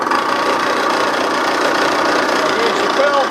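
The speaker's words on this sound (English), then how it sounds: "So I'll run it." A Trump K3VL vertical knee mill with variable speed spindle and power quill feed runs steadily, a loud continuous mechanical whir and hum with a faint high whine, heard close and unbroken throughout.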